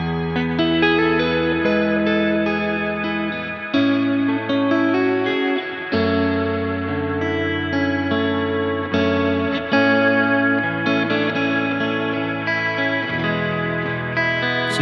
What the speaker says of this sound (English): right now we have the reverb very lightly engaged, but let's turn the mix all the way up